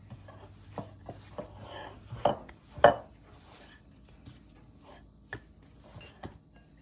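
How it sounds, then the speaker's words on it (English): Roti dough dusted with flour and kneaded by hand, giving soft scattered thumps and rubbing, with two stronger slaps near the middle, close and fairly quiet, no talking. "just sprinkle a little bit on top and knead for about 2 to 3 minutes"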